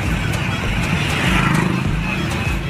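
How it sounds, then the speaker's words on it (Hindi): Dense road traffic during a jam on the way to a rally in Daltonganj, a steady wash of car and motorbike engines rumbling close by, with a few passing vehicles swelling slightly above the constant din. "कितना ट्रैफिक है गाइस अभी, ओ जाम लग गया यार"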